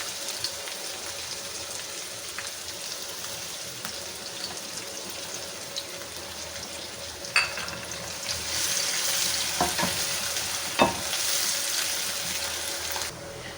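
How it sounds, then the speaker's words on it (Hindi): Steady hiss of chopped onion frying in hot oil, continuous and close, with a couple of sharp clanks of a utensil against the pan. "अब हमने एक प्याज लेके मीडियम उसे चॉप कर लिया था, ये इसमें डाल देंगे"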